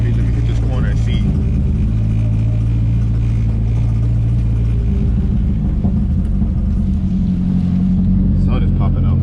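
A Nissan S13 car drives and corners in the rain, with a loud, constant engine rumble and road drone throughout, its pitch wavering through the turn, and a voice talking briefly over it.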